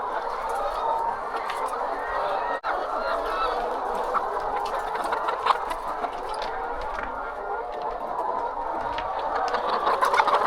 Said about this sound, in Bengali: এনে 1500 মুরগি আছে।